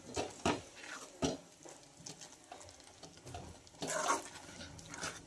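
A spoon stirs a thick mashed ragda mixture in a pan, giving soft wet scraping and sticky patting sounds in uneven strokes with a few louder knocks, close and fairly quiet.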